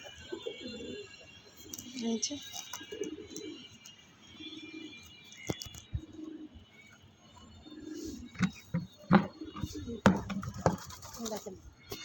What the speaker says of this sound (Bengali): এই যে আমার কবুতরগুলো হাঁটাহাঁটি করছে এখানে